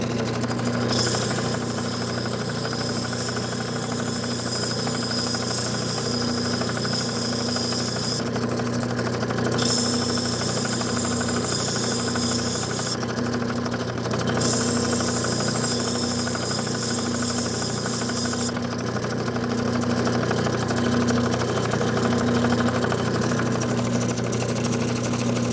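Steady, loud whirring hum of a lapidary machine cutting and shaping opal stone, with a constant motor drone and a gritty high hiss that briefly drops and returns a few times.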